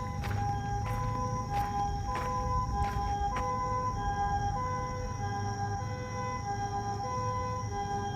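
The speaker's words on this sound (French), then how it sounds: "Ah non, c'est une ambulance" An ambulance passes along a street in Kamakura, Japan, its siren cycling through a repeating two-tone pattern over steady traffic hum, moderately loud and holding for several seconds with no voices.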